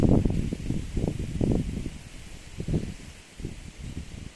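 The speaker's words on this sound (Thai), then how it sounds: "ลมแรง น่าอยู่เนาะ" Strong wind gusting through a garden with mango trees, rustling leaves in repeated close bursts of a few seconds each, loud against a steady breezy background.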